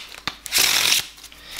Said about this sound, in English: You can see even just doing a riffle shuffle